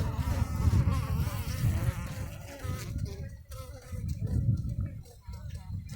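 Honey bees hum in a steady, dense drone from an open beehive, close and continuous, with a voice talking over them part of the time.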